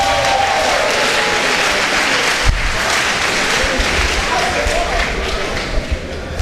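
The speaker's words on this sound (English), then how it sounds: "giving a big hand clap, John O'Cully." Sustained, loud applause from an audience at a senatorial debate in Gbarnga, a dense wash of clapping from many hands that holds steady throughout, with crowd noise and a few thumps beneath it.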